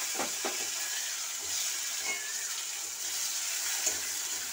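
Chopped tomato and chilli added to hot fish oil with panch phoron, giving a steady close sizzle and crackle with faint stirring clinks.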